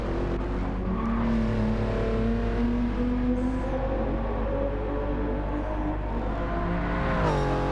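A race car engine in the video game Gran Turismo 7 drones steadily as it climbs through the revs, with short-shifted gear changes making the pitch step down, ending in a clear downward drop near the end. It is loud and continuous, with no talking.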